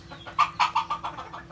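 A crossbred red jungle fowl chicken gives a short run of about eight quick, evenly spaced clucks, close and fairly soft, with no talking over it.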